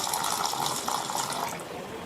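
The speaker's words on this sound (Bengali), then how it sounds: "এখন আমি চালটাকে ভিজিয়ে নিচ্ছি।" Water is poured over a kilogram of biryani rice to soak it, giving a steady splashing rush that stays moderately loud for the whole short moment and tapers slightly at the end.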